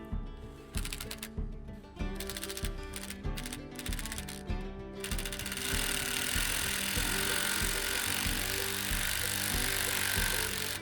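A ratcheting tool tightens three bolts on a Solera RV awning motor, giving rapid, close mechanical clicking in bursts that gives way to a steadier whirring.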